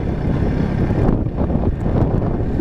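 Heavy wind rushes and rumbles loudly against the mic at a campsite in Norzagaray, Bulacan, constant with slight surges and no talking.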